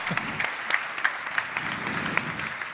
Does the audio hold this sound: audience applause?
yes